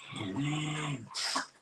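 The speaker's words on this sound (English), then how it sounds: "Sorry, that was my dog." A dog lets out a drawn-out whining, groaning vocalization, close and fairly loud, followed by a short huff or bark-like snort at the end.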